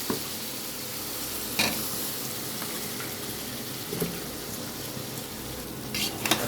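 Rohu fish curry with chips frying in a pan, a continuous close sizzle with occasional scraping stir strokes and light clinks of the spoon, no talking.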